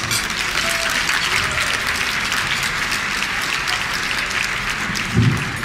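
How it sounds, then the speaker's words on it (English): Steady applause from an audience at a school community event, dense and continuous throughout, with a brief louder swell near the end. "Give him a round of applause."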